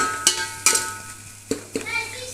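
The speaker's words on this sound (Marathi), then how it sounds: "तिखट टाकून मस्त फिरवून घ्यायचं सगळं" Chicken curry being stirred in a pan after chili powder goes in, a large batch for seven or eight people: four sharp scraping stirs of a spoon against the pan over a soft background sizzle, close and alone.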